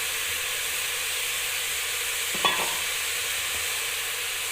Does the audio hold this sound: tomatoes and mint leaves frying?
yes